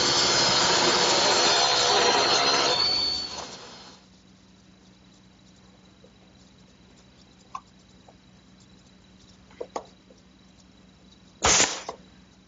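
A table saw rips a pine strip to thickness with a loud, close rushing cut for a few seconds, then fades away, leaving quiet shop ambience with scattered clicks and a brief burst near the end.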